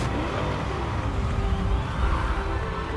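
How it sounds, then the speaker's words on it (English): A 2020 Chevrolet C8 mid-engine Corvette revs at its reveal presentation, a loud, continuous engine roar that swells and holds over a reverberant hall. "the all-new 2020 mid-engine Corvette"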